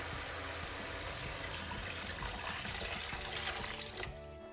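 Boiling water poured into a pot of softened stir-fried tomatoes for tomato seaweed egg soup, a steady close trickle and splash that runs evenly and fades near the end.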